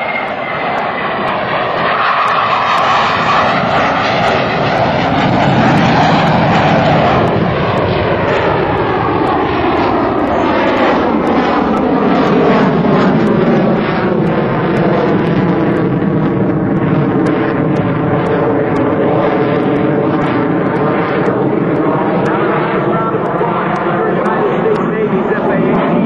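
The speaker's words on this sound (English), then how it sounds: "brings the aircraft in, his Hornet, at about 300 miles per hour" An F/A-18C Hornet jet roars past at an airshow at about 300 miles per hour, its loud engine rising and sweeping through a long Doppler pass while an announcer talks over it.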